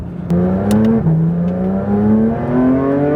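A 2024 Porsche 911 GT3 RS engine revs high and loud to about 9,000 rpm, its pitch climbing steadily in a sustained howl with a brief dip as it shifts.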